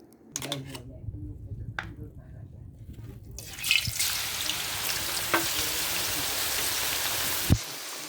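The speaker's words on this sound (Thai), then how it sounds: "อันนี้ทอดส่งลูกค้านะครับบริการทอดฟรีครับผม" Sun-dried pork (moo daet diao) frying in hot oil, a broad steady sizzle that swells after a few seconds and holds loud and close, with a few clinks from utensils stirring the pan.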